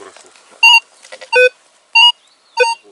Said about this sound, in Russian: Что-то показывает, но я никогда бы такой сигнал не копал бы.